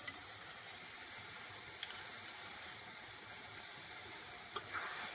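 Masala cooking down in a pan with tomato paste and sour yogurt for a fish curry gives a faint, steady low sizzle, with a few soft clicks of a spoon.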